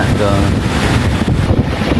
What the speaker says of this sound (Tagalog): Madungog siguro ninyo hangin.